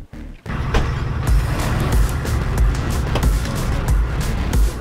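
A car at a frontline evacuation site, with a loud, steady engine rumble close by, carrying low throbbing and rattling with occasional brighter clanks over a constant roar.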